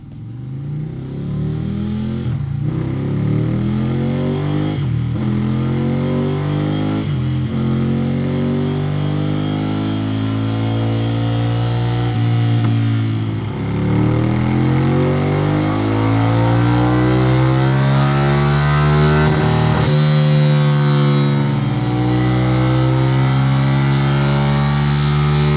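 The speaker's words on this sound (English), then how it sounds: "on the dyno today we've got strapped a Ducati Scrambler. It is the 800." A Ducati Scrambler 800 motorcycle revs hard on a dyno, its engine note climbing and falling in repeated sweeps with short throttle blips, loud and close throughout with no talking.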